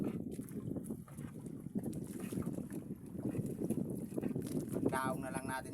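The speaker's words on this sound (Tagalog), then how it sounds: "Medyo malakas yung hangin." Strong wind buffets the microphone with rough, gusty rumbling throughout, while a person talks over it nearby while removing crabs from a fishing net.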